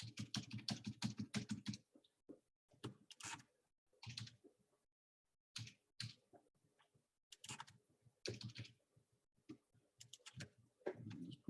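Typing on a computer keyboard while entering an email address, with close bursts of rapid key clicks broken by short pauses, quiet and without speech.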